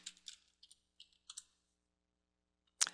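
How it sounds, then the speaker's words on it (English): A computer keyboard being typed on, with a quick burst of crisp clicky keystrokes up close, then a pause and one final sharp key tap. "I'll type in FTP and then the address of the FTP server."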